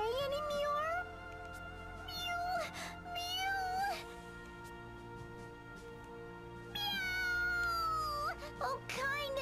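A cat in the game Bravely Second meows in several long, wavering, plaintive cries, close and clear, with quieter gaps between them over soft background music.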